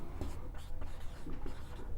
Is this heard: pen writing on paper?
yes